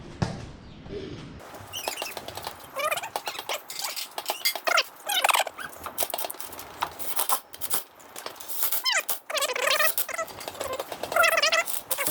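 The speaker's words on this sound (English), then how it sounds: "Chickens are getting bigger." Many young chickens chirp and peep busily in quick, high bursts, close up, with rustling and scratching throughout.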